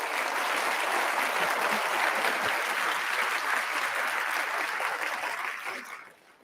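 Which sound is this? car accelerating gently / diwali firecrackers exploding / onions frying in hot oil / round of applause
round of applause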